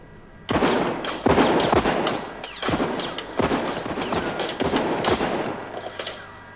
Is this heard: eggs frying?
no